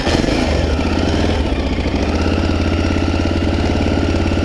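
A 1985 Honda XL 600 single-cylinder motorcycle engine runs steadily and loud, with a dense, even thumping throb that holds all the way through.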